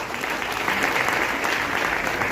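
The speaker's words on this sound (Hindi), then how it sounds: "एक जोरदार ताली होनी चाहिए।" An audience at a motivational gathering breaks into loud, dense applause, a continuous wash of many hands clapping at once, close and sustained.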